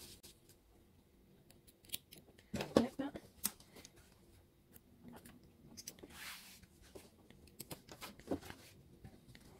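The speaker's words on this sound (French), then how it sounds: "Maintenant, je vais couper les fils" Scissors trim the thread ends of sewn ribbons for a headband, making a few sharp, close snips and small handling clicks scattered through a quiet room.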